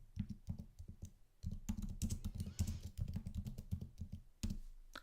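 Rapid clicking keystrokes on a nearby computer keyboard, bursts of fast typing separated by short pauses.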